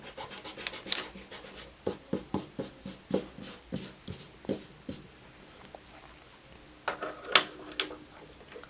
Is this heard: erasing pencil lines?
yes